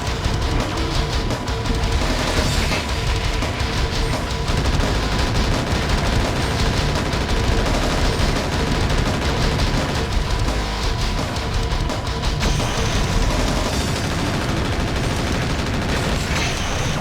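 Sustained mech weapons fire in the combat game MechWarrior 4: Mercenaries, a dense unbroken barrage of rapid gunfire and heavy blasts roaring loudly throughout, with no talking over it.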